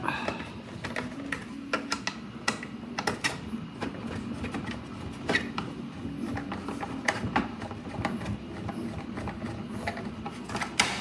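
Plastic track sections for a four-lane 180-degree curve are screwed together by hand, with soft clicking and scraping taps at an irregular rhythm close by while someone talks over them.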